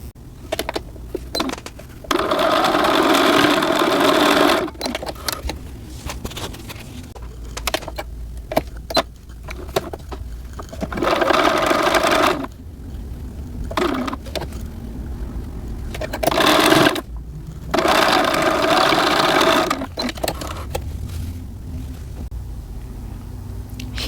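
A sewing machine stitches baby rickrack trim from Wright's onto a pair of shorts in several bursts of close, whirring motor noise, separated by quieter pauses.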